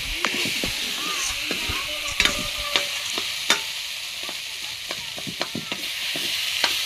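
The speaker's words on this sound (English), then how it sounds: "Now I am cooking" Onion sizzling and frying in a pan for a potato and tomato curry, a steady broadband hiss with frequent sharp clicks and scrapes of stirring; a faint voice murmurs in the background.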